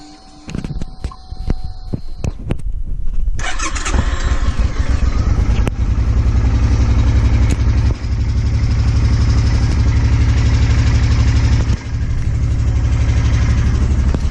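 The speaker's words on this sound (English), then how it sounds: "I'm going to let my bike run for a couple of minutes now" A motorcycle being run after fuel stabilizer is added for winter storage clicks and cranks, then fires up and settles into a steady, loud, close idle that continues unbroken.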